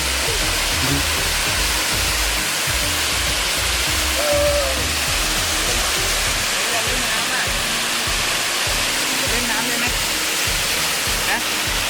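Steady broadband rush of Tat Mok waterfall fills the scene, close and loud, with people talking over the roar.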